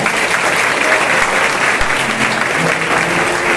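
Steady, loud clapping from an assembled crowd at a school farewell ceremony, sustained evenly from start to finish.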